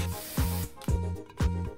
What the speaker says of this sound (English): I think you have to give it a good spray.